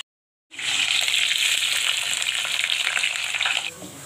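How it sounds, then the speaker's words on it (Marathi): Curry leaves dropped into hot oil for misal, bursting into a loud, close, continuous crackling sizzle after a brief silence, holding steady for about three seconds before dying down. "आता तेल टाकलं, आता त्याच्यामध्ये आपण कढीपत्ता टाकू"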